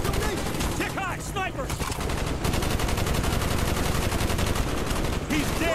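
Dense, continuous rapid gunfire and machine-gun bursts from the Call of Duty Black Ops 1 video game, set in a Vietnam combat mission. Loud and unbroken throughout, with brief voice fragments mixed into the battle.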